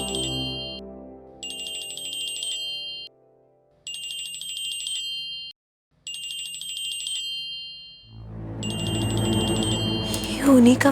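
A phone ringtone plays in repeated bursts with short gaps between them. Louder music and other sounds then swell up beneath the final ring.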